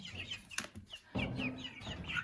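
A red rooster clucks and squawks in a chicken coop, close and agitated, with short repeated calls and a sudden flurry of movement midway.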